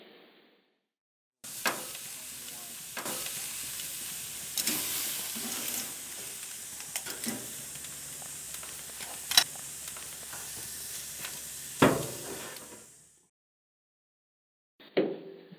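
Shrimp grill over a cedar plank, giving a soft steady sizzle and hiss with occasional pops and clicks, fairly faint, ending in silence before a brief final burst.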